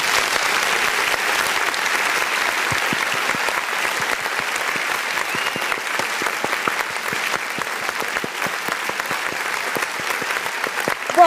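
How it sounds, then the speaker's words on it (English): Recorded applause sound effect with many hands clapping, a continuous dense patter that holds steady for several seconds and swells slightly at the end. "Could you play the clapping for me one more time?"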